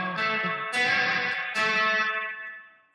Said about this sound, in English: This really does sound like a spring reverb.